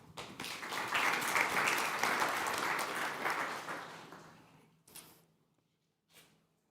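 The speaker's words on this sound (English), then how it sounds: "Please give her an applause." A conference audience at a general assembly gives applause that swells quickly, holds for a few seconds, then tapers off into a few scattered claps and quiet.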